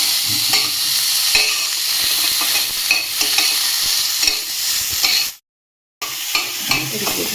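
Broccoli fries and sizzles in a pan for a homemade cream of broccoli soup, with steady loud sizzling and repeated stirring scrapes, broken by a brief gap of silence near the end.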